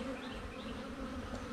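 Honeybees buzz densely and steadily on a frame pulled from a hive with a laying-worker problem, a close, continuous hum with no talking.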